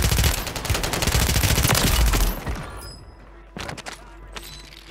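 Rapid video-game gunfire from a sniper-and-rifle firefight in a Call of Duty match, a dense loud fusillade of automatic shots for about two seconds, then quieter, with a few more bursts shortly after.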